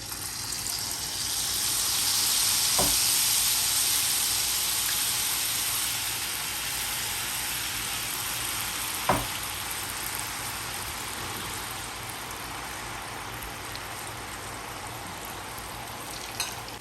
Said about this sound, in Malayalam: ഞാനൊരു പാൻ അടുപ്പത്ത് വെച്ച് എണ്ണ ഒഴിച്ചിട്ടുണ്ട് എണ്ണ ചൂടായിട്ടുണ്ട് നമുക്കിനി ഒരു കിഴുത്തിയുള്ള ഒരു തവി ഇങ്ങനെ എടുത്തിട്ട് അതിലേക്ക് ഇത് കുറേശ്ശെ ഒഴിച്ച് ബൂന്തി ഉണ്ടാക്കിയെടുക്കാം